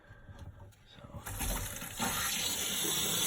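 Water gushing from a newly opened cold water faucet during a plumbing startup, starting faint then jumping to a strong, continuous rushing flow close by.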